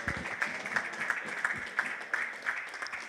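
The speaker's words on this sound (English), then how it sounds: "let's give him a round of applause" Scattered applause from a small wedding crowd, uneven clapping sounding somewhat distant and fairly quiet, with no talking over it.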